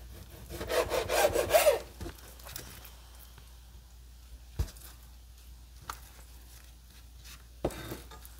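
A knife saws through a stack of tortillas on a board for soup strips, with a brief burst of rasping strokes near the start, followed by a few isolated soft taps in quiet.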